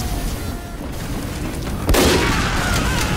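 A sniper rifle headshot in Team Fortress 2 cracks out as one sudden loud blast, then trails into a short rumbling decay over constant game noise.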